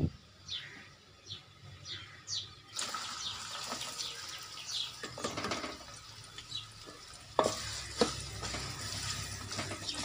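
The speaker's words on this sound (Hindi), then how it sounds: "अब इसमें प्याज डाल दें।" Onions fry with steady sizzling in a pan, with bursts of scraping and stirring, a few sharp clinks of a utensil against metal, no voices.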